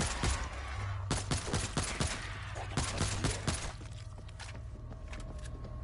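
Bursts of gunfire crack out as a zombie is shot in the World War Z video game, a rapid cluster of sharp shots followed by a few scattered reports over a low ambient rumble.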